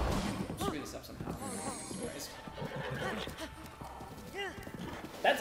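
A horse whinnies and its hooves clip-clop in the video game Zelda Breath of the Wild, close and fairly loud, with voices talking over the sounds throughout.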